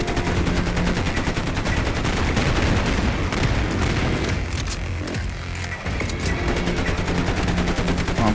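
Dual-wielded assault rifles fire in Wolfenstein II in rapid, sustained automatic bursts, and the shots blend into a continuous, loud rattle of game gunfire.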